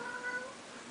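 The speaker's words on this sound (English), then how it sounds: "Excuse my black cat. He's off in the background yelling at me for some reason." A black cat meows insistently somewhere off in the background indoors, a drawn-out, wavering cry that fills the moment with nothing else competing.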